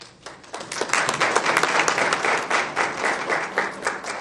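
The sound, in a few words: audience applause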